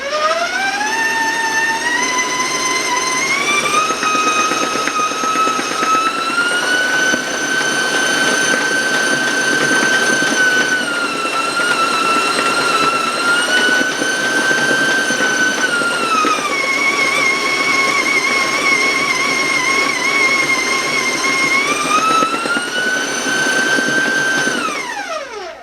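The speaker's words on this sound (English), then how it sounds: "I'm going to turn up the mixer a little bit," A stand mixer runs steadily at higher speed through marble chocolate cake batter, giving a loud continuous motor whine whose pitch climbs, holds, dips and rises again, with no talking.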